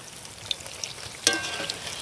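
Palm fruit fritters (taler bora) frying in hot oil give a soft, steady sizzle with scattered small pops and a brighter crackling burst partway through.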